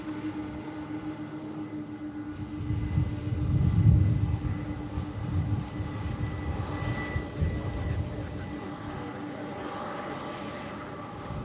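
An MD-11 cargo jet landing at Louisville's SDF airport, a low distant engine rumble that swells and peaks mid-way, then eases into a steady roar.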